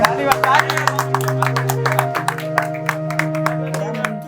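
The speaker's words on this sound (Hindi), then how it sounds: "ताली बजा करके" Audience clapping at Veerodaya 2024, a Hindi storytelling event, with a dense patter of hand claps over sustained droning musical tones and a voice.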